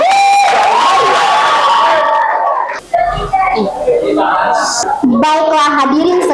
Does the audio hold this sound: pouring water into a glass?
no